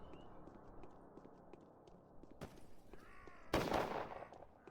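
A distant glass Molotov bottle shatters in the video game Pathologic, with a sharp burst around the middle of the clip and a louder crash-like blast near the end over low game ambience.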